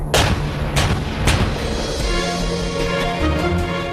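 Heavy howitzer artillery firing in sharp repeated blasts, roughly three booming reports in quick succession over a dense, continuous rumble of gunfire and background noise.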